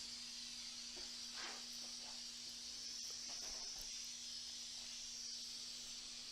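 Spray adhesive hisses steadily from a can onto vinyl drywall corner bead, a constant broadband spray with faint intermittent clicks and shifts as the nozzle moves, plus a low steady hum underneath; no one speaks.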